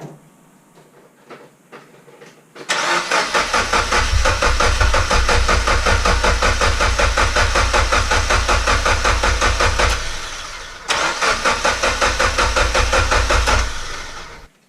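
A Mitsubishi Evo X engine cranks without starting, with its fuel pump disconnected, a loud, close, rhythmic starter churn running about seven seconds, pausing briefly, then cranking again for a few seconds.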